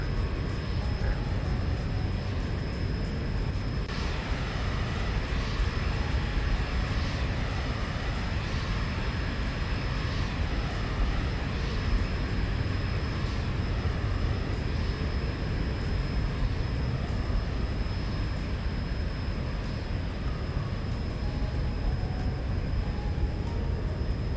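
Simulated Zibo Boeing 737-800 airliner in X-Plane 11 taking off and climbing, a steady broadband engine roar with a thin high whine holding loud and even throughout, no voices.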